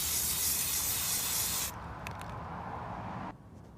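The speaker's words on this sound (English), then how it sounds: "I just happen to really like spray paint" A spray paint can hisses out a coat in a steady, close burst, then breaks into a lighter, quieter spray before stopping near the end.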